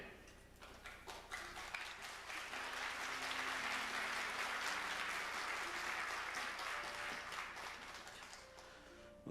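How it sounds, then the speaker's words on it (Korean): A church congregation at a special dawn revival meeting spanning three generations breaks into sustained applause. It swells quickly to a dense, even roar of clapping, holds for several seconds, then thins near the end, with no speech over it. "그냥 박수가 절로 나오시네요."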